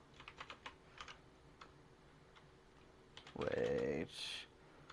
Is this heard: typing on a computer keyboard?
yes